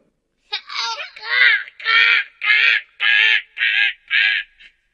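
A crow caws eight times in a steady harsh series, loud and close, within a children's story about a cheerful crow, alone without talk.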